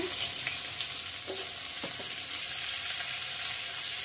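Raw mango pieces with salt fry in a pan, giving a steady, close, even sizzle with faint stirring scrapes and no talking.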